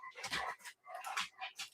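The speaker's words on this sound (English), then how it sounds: "Why did she let this dog in here?" Indoors, a dog whimpers and yips in a quiet room, a few soft whines in short bursts with brief gaps between them.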